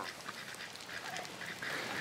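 Ducks quacking out in rainy weather on a homestead, roaming through wet grass after slugs and worms; a few faint, scattered quacks sit under a steady hiss of rain.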